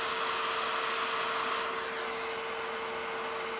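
A hot air rework station blows steadily over an Xbox Series X circuit board, a constant loud broadband hiss with a steady tone that holds for the whole stretch, no voices.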